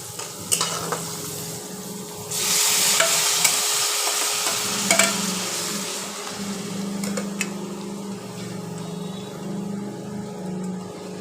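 Ash gourd sizzles in a hot wok as a utensil scrapes and stirs it in repeated strokes, over a steady low hum.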